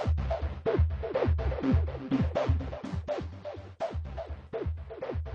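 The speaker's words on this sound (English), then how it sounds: "So we'll start with a bit of an acid bass sound." A throbbing acid bass line from the CamelSpace synthesizer plugin pulses in quick repeating notes with squelchy, sweeping tones, steady and fairly loud with no voices.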